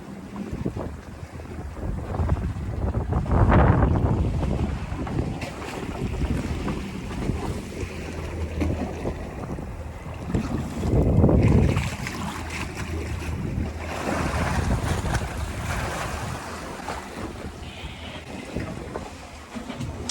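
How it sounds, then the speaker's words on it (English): A Chris Craft boat under way off Miami, with heavy wind buffeting the microphone and waves slapping and rushing against the hull, loud and continuous with surging swells. "Out on a boat."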